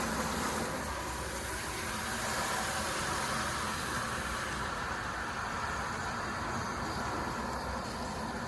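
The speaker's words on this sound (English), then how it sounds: "So let's get this bucket filled up." Water pours into a bucket for a rinseless car wash as a steady, even rushing hiss that continues unchanged throughout, moderately quiet and without voices.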